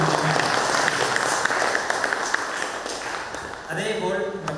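An audience claps for a university registrar and acting vice-chancellor at a training session: a steady, dense wash of applause for several seconds, then a voice starts speaking over the fading clapping.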